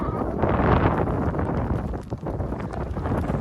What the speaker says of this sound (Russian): И сейчас еще вдобавок к этому сильному ветру еще и идет и дождь